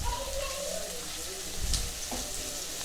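Sliced large onions sauté in hot oil with fried garlic in a pan, a steady close sizzle with occasional stirring scrapes, while a person talks over it.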